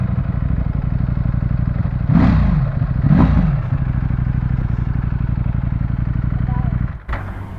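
A Ducati Panigale V4 idles loudly up close with a rough, throbbing engine note, then is blipped twice in quick revs that rise and fall before it settles and cuts off near the end.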